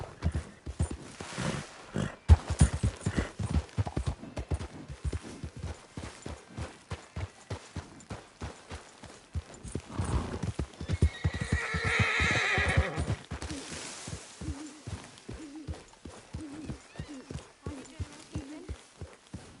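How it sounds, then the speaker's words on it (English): Steady clip-clop of hooves in a PS4 video game drums throughout, with a horse letting out a loud whinny midway and more snorting, neighing calls near the end. "get that horse out of here!"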